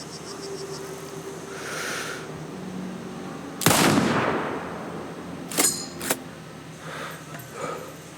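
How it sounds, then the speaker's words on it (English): Sniper rifle shots in the video game Sniper Ghost Warrior Contracts 2: one loud, booming shot with a long rolling echo, then two sharper cracks a couple of seconds later over a quiet ambient background. "this caliber of rifle, anybody could hear that from a mile away"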